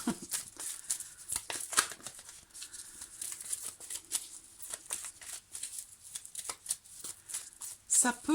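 Tarot cards are shuffled in quick, papery riffles and soft flicks close by, repeating in bursts, while someone talks throughout.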